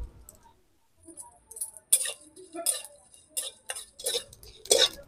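Dried red chillies, whole coriander seeds and cumin are dry-roasted in a pan, with irregular bursts of close rattling, ticking and scraping after a quiet start.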